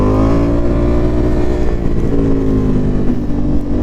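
A Ducati Multistrada V4S motorcycle accelerates hard, its loud, close engine note climbing steadily in pitch with a dense, throaty roar and rising harmonics for a few seconds.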